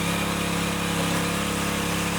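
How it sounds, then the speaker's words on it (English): Control engine running, a steady close drone of a small engine idling evenly with no talk. "And this one here is the control engine."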